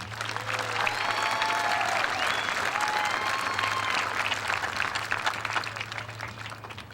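Audience at a high school graduation ceremony applauding the class co-presidents, a dense, steady wash of clapping that holds throughout, with a faint hum and a few squeaks of feedback underneath.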